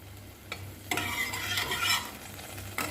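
Whole black cumin seeds dropped into hot oil for banana-stem ghonto burst into a sharp sizzle, with a few utensil clicks and stirring sounds over the crackling, close and without talking.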